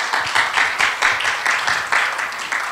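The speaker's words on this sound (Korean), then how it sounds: "우리 감사의 박수 한번 드리십시다" Congregation applause in a church service: many people clapping together in a steady, rhythmic pattern with regular pulses, fairly loud and sustained, with no voices over it.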